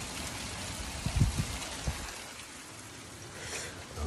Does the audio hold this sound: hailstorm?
yes